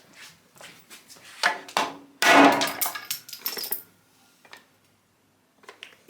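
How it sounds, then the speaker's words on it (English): A hammer strikes a damaged metal mailbox in a series of sharp, uneven clanging hits, some close and loud, with quieter gaps between them. "Even a hammer won't do it."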